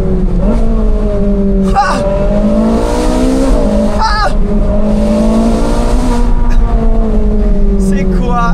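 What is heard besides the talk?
Ferrari sports car engine revving while driving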